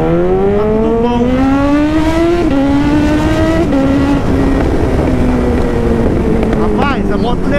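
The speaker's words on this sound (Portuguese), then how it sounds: "Hoje a gente vai tentar dar uma partida no motor, ver se o motor tá tudo ok, tá funcionando certinho." A motorcycle, freshly reassembled after repainting, is started and revved close by: a loud engine note climbs and dips through several throttle blips, with some wind buffeting the microphone.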